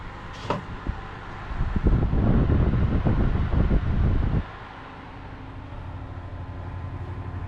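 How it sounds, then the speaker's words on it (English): Gusts of wind at a lake campground buffet the microphone in a loud roaring burst for a few seconds, then ease to a lower steady rush. "Really windy today,"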